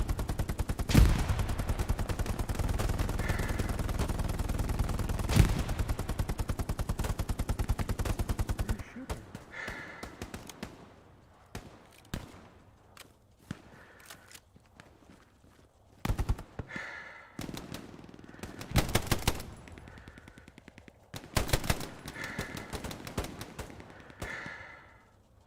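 Video game gunfire from a machine gunner, dense sustained bursts at first, then scattered shorter volleys and single shots with quiet gaps between them.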